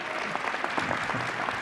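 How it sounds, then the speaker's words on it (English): Brief applause breaks out from an audience at a city mayor's annual address, steady clapping with a faint voice briefly showing through. "I'll applaud that."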